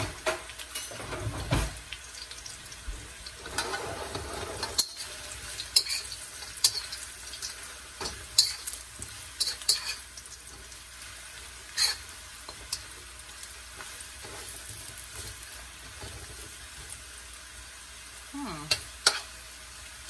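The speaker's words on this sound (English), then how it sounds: "And give it a little stir." Food for nachos supreme is stirred in a pan, a soft continuous sizzle with repeated scraping and light knocks of the utensil at an uneven rhythm, close and fairly quiet, with no talk.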